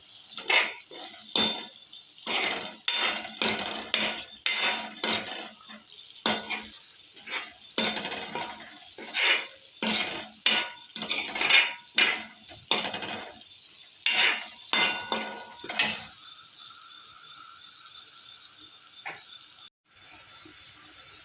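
Pav bhaji vegetables mixed with red chilli and coriander powder on a tava, a spatula scraping and clanking in irregular bursts over a soft sizzle, then a quieter stretch and a brief hiss at the end.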